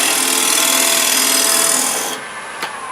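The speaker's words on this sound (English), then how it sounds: "I'll use my beveled scraper, and I can come around on it and really smooth out that edge there" A beveled scraper is drawn around a wooden edge, a dense, loud rasping scrape for about two seconds before it stops abruptly, followed by a faint brief tap.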